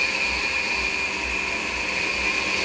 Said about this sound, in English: It is pulling the air out and is now going to start pumping fuel in a much finer micron filter.